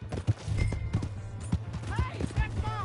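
Horse hooves clop in Red Dead Redemption 2 during a horse theft, a loose rhythmic patter under a steady low hum, mixed with shouting voices and a horse's whinny.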